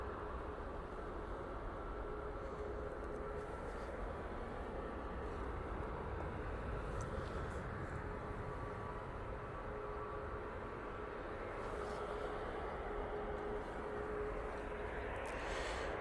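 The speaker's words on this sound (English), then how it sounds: "And here we have a 737 MAX 8." A Boeing 737 MAX 8 airliner produces a steady, broad jet roar with a faint whine, a moderately distant, continuous wash of engine noise that stays even for the whole stretch.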